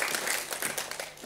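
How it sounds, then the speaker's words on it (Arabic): Short burst of audience clapping welcoming guests with special needs at a disability-day children's show, a steady dense patter of many hands at moderate loudness. "تصفيق عليهم"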